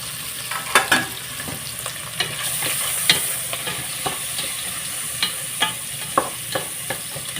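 Chopped onions fry in hot tempering oil for a horse gram soup, giving a steady sizzle punctuated by sharp scrapes and clinks as a spoon stirs the pan every second or so.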